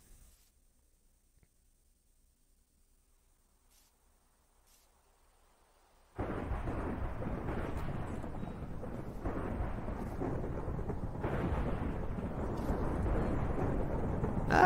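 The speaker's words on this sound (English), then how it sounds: "Nick, go ahead and turn on a thunderstorm. Hit that creeper with lightning." In Minecraft, after several seconds of near silence, heavy rain and a rolling thunderstorm roar in suddenly and keep up a dense, loud wash of sound.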